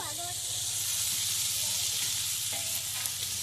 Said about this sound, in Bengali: এবারে আমি সিমাইটা ঢেলে দিচ্ছি